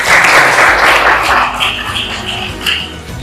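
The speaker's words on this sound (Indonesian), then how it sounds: "Tepuk tangan untuk Kemas" A classroom of students applauds a classmate, loud close clapping that swells at first and then thins out over a few seconds.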